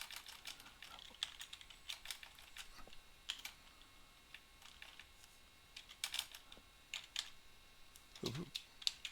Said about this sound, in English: let's just type it out, type it in here